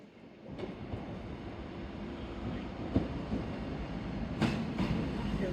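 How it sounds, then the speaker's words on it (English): A four-coach passenger train pulls into a station on the line toward Exmouth, with a steady rolling rumble that builds gradually and sharp clacks and faint squeals from the wheels, heard from the platform. "This train has 4 coaches."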